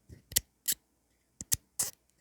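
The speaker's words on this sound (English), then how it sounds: "it makes this weird squeaking sound." A knockoff Surefire X300U-A weapon light's switch being worked, giving five or six short, sharp squeaks in an irregular rhythm, close and distinct against silence.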